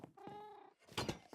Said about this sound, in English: I want that Siamese cat.